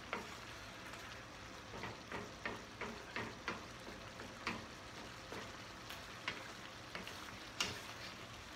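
Pasta, sausage and spinach sizzle in a pan under a soft continuous hiss, while a spoon stirs them in a steady rhythm of light scraping taps, close and alone.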